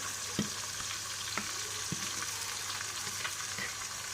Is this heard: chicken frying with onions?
yes